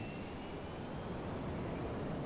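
An airplane in Saints Row The Third flies steadily, a continuous broadband engine roar with a faint high whine holding at even loudness throughout.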